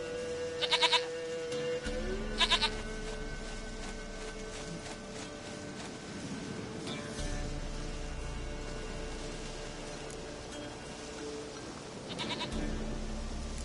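A goat in The Witcher 3 bleats in short wavering calls, two close together near the start and another near the end, over a steady game ambience and low hum.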